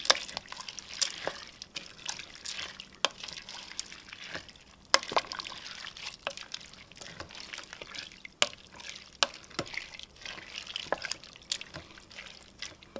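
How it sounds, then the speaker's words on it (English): Fifteen bean chili being stirred in a Cosori pressure cooker, soft wet scraping and clinks of a spoon against the pot, scattered through a quiet stretch with no talking. "give it a good stir."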